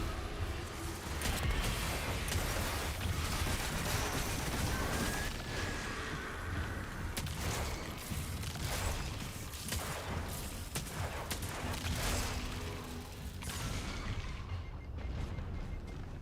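Continuous rapid gunfire from Destiny 2 as a player shoots at moths, dense overlapping shots and impacts sustained at a steady loud level with a brief crash of heavier blasts throughout.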